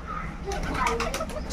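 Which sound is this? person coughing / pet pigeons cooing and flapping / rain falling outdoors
pet pigeons cooing and flapping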